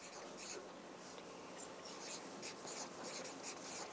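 A pencil scratches a comma onto paper in short, soft, close strokes against quiet background hiss.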